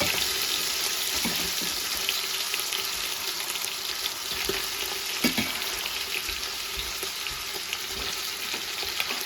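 Chicken sizzles in hot oil with golden fried onions in a pan for white pulao, a loud continuous crackling hiss with occasional soft stirring clicks throughout.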